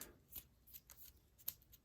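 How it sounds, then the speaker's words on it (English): Target cards for a board game being shuffled by hand, a quiet series of soft riffling bursts with a sharper snap near the end, close and alone. "You shuffle them up"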